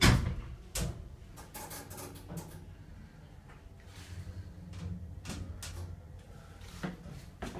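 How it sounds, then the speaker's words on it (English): Doors of a Pickerings passenger lift at Lakeland in Exeter slide shut with a few sharp mechanical clunks at the start, then a low rumbling whir as the mechanism runs, quiet and close. "Door closing."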